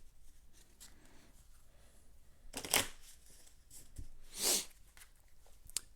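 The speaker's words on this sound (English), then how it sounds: "Finish shuffling up the giant decks here" A giant deck of cards for the board game Terraforming Mars Ares Expedition is shuffled in two short, crisp riffling bursts close to the microphone, with quiet pauses between them.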